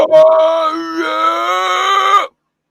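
A human voice imitates the unearthly shrieks of the Jersey Devil with a single loud, sustained, strained scream-like wail lasting about two seconds, then cutting off abruptly into silence.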